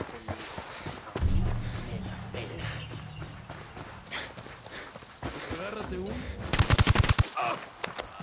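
Automatic gunfire from the video game Ghost Recon Wildlands erupts in a loud, rapid burst near the end, following busy game ambience and movement sounds, with voices present.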